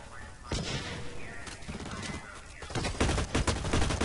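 Rapid gunfire bursts from the online shooter game Blacklight: Retribution, loud and repeated throughout with dense automatic firing that intensifies toward the end, with no talk over it.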